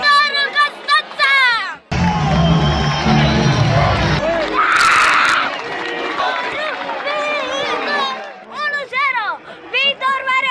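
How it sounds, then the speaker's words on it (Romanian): Stadium crowd at a Viitorul Constanța versus FCSB football match, a loud roaring mass of cheering and shouting that surges and holds for several seconds, with an excited commentator's voice talking over it at the beginning and end. "Mulțimea e în delir!"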